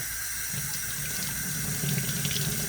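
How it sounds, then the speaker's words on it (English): Water runs steadily through an HP 920 printhead's nozzles during a cleaning flush, a continuous close hiss and trickle like a running tap with no pauses. "if the water starts coming out of the nozzles right away, then it's not too clogged"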